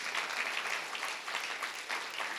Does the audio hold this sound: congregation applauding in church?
yes